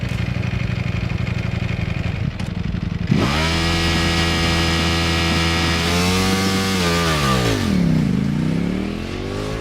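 A Ducati Panigale V4 standard-model sportbike holds a loud, steady high rev on launch control, then launches hard, its engine note climbing, dipping briefly and climbing again through successive gears, close and continuous throughout.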